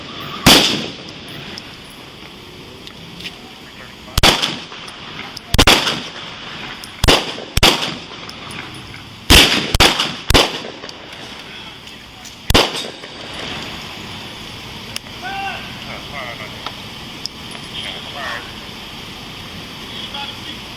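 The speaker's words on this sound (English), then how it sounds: "Yeah, you shooting at us." Sharp gunshots crack out during a police standoff at a Houston motel, about a dozen loud, close blasts in irregular bursts over several seconds, followed by quieter ambient noise with faint voices.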